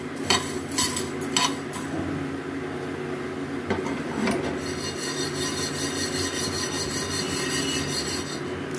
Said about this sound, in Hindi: तो हम ये धनिया को हल्का से भून लेना है खुशबू आने तक, धीमा धीमा आंच पर।